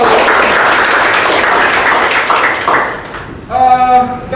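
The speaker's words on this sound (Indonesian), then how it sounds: "Tepuk tangan untuk semua." Applause from a classroom full of students fills the space for about three seconds, a dense close wash of clapping that fades, followed by a brief voice.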